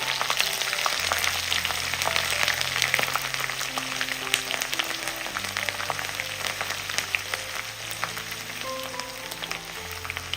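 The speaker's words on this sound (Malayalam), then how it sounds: "വെളുത്തുള്ളിയുടെ ആ പച്ചമണമൊക്കെ ഒന്ന് മാറി കിട്ടുന്നവരെ ഒന്ന് ഇളക്കി കൊടുക്കാം." Crushed garlic cloves fry hard in a pan, giving a loud, dense, continuous crackling sizzle with occasional stirring scrapes, up close throughout.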